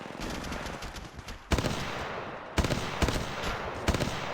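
Rapid automatic gunfire in Apex Legends Mobile, several dense bursts with sharp onsets around 1.5, 2.6 and 3 seconds over continuous firing, loud and close with no talk.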